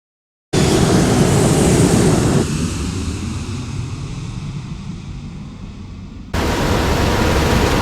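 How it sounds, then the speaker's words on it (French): Ocean waves at Bondi Beach, a loud, steady broadband wash of surf close to the microphone, with wind buffeting and no voices. "je prends des photos avec mon téléphone et j'admire les vagues"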